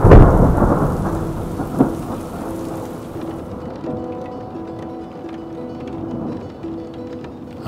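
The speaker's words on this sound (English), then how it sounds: "I wake up to the rumble of thunder" A deep roll of thunder rumbles and fades over steady rain pattering nearby, with a faint tonal hum running underneath.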